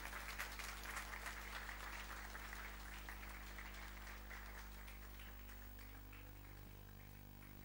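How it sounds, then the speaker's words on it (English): An audience at a film press conference applauds Ajay Devgan's arrival on stage, a sustained ripple of clapping that is strongest at first and slowly tapers, over a steady low electrical hum. "Round of applause, ladies and gentlemen, for Mr. Ajay Devgan to come up on stage."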